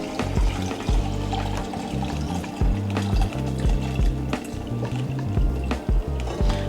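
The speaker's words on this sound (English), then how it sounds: "Pour this oil into this right here." Cooking oil is poured into a pan for making brown gravy for smothered pork chops, a continuous gurgling liquid stream with choppy glugs and splashes close by, loud and steady throughout.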